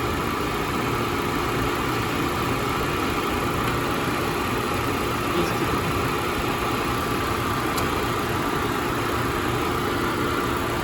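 A 2016 Nissan Versa's engine idles steadily without a break, a constant low rumble with a faint hum layered above it and no voices.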